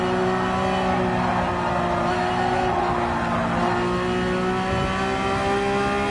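Porsche 911 GT3 engine in the Gran Turismo 7 racing game, a steady droning engine tone with layered harmonics that shift slightly as the car downshifts from fourth to third, loud and constant, no voices.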